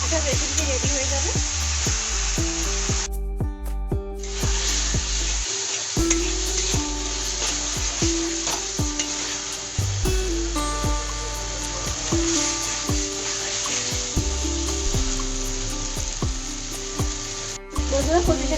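Taro leaves (kochu shak) with salt and turmeric cook on low heat in a pan, giving a continuous close sizzle with occasional stirring scrapes and a steady tonal hum behind it.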